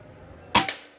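A single sharp crack from a Bocap Pajero Gen 5 PCP air rifle, close and brief with a short decaying tail, alone against quiet background.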